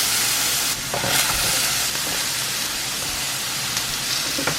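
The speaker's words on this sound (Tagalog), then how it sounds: "Igigisa lang natin guys yun sa sibuyas." Pork with onions sautés in oil in a pan, a loud, steady sizzling hiss close by, broken by a few scraping stirs.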